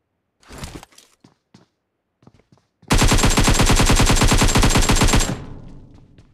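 Gunfire during a kill in PUBG: a few scattered single shots and clicks, then a loud, continuous burst of rapid automatic fire lasting over two seconds before fading out, with no talk.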